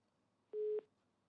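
During a live news phone-line link, a single short, clean telephone tone sounds once as the call drops, briefly and alone against near silence.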